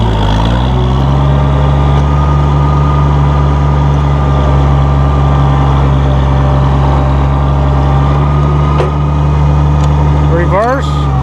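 A 1966 Oliver 1650 row crop tractor engine runs loud and close with a steady deep diesel drone, rising in pitch as throttle is added, then a brief rev change near the end, with a voice talking over it.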